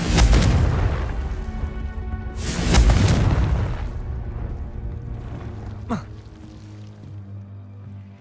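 A Confringo spell goes off in the video game Hogwarts Legacy, setting off two heavy booming blasts that fade into a lingering rumble and faint ambient tones.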